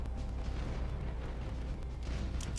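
Torpedo strikes in the space battle game Battlefleet Gothic Armada rumble as a continuous deep, dense roar of explosions, steady and loud throughout with no clear individual bursts.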